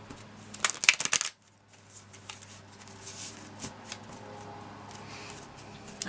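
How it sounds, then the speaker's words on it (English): A deck of cards being shuffled, a quick burst of riffling snaps up close followed by softer handling rustles and taps. "Shuffled the deck"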